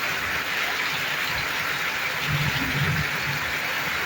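Rain pours steadily in Rajbari, making a dense, even hiss of falling drops throughout with no voices.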